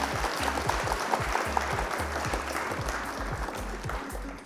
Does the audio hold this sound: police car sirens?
no